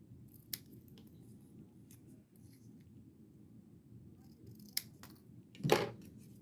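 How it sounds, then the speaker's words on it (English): Scissors cut through a small piece of material in a quiet room, giving a few crisp, isolated snips spaced seconds apart. The final cut is louder and drawn out. "going to cut it here and here and then here"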